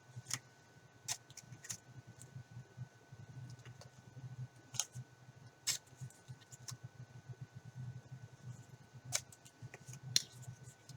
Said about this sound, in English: I'm just going to take my scissors, and I'm just going to miter my corners a little bit